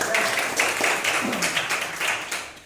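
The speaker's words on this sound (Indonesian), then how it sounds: "Kasih tepuk tangan dulu Andika." A classroom of students claps for a pupil named Andika, a steady patter of many hands lasting a few seconds at moderate loudness, with faint voices underneath.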